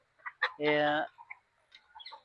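A Rhode Island Red rooster and hens give a few short, close clucks around one longer drawn-out call, with a person talking nearby.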